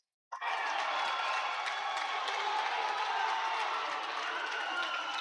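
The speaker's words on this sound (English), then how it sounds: "And the buzz in the crowd." At a high school basketball game in a gym, a loud crowd suddenly erupts into a dense, sustained roar of cheering and chatter that holds steady throughout.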